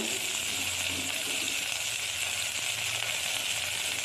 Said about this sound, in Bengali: সব কেটে রাখা সবজিগুলো আমি এক এক করে দিয়ে দেব আর এটাকে ভালো করে নেড়ে চেড়ে